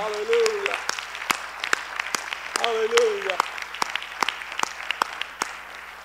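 Church congregation clapping hands, heard as sharp separate claps at an irregular pace over a low hum, with someone speaking across the opening and middle.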